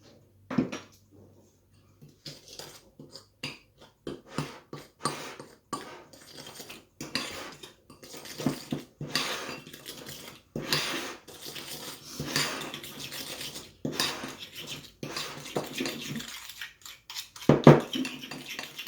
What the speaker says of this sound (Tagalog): Haluin natin ang haluin hanggang sa maging creamy.